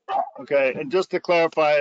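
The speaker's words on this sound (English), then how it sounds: "Sorry about the dog." A dog barks sharply in the background of an online board meeting, the yips overlapping steady close speech from a participant.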